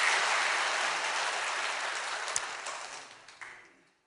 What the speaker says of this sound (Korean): 박수로 확실하게 치십시오.